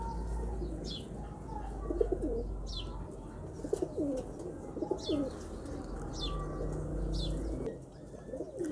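Several pigeons coo in soft, repeated rounds, close by, with occasional light chirps and a low background hum.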